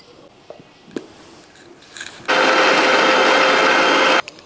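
An electric grinder blends cashews, melon seeds and water into a smooth paste for kadai paneer tikka masala, starting with a loud, steady whir that runs for about two seconds and then cuts off abruptly after a few soft clicks.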